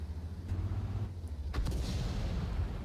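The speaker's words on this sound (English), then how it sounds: "Their artillery they just done a double hit on our E100 and our T10." In World of Tanks, enemy artillery shells land a double hit on an E100 and a T10 tank: one sharp, booming blast cuts through a steady low engine rumble, with fainter thuds trailing after it.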